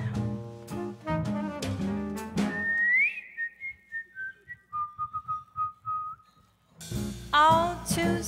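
A person whistles a short, lilting melody on its own, framed by quick bursts of sung or instrumental notes before and after.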